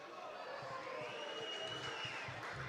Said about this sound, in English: hear the greeting Cleveland gets here at Labatt Park in front of the hometown fans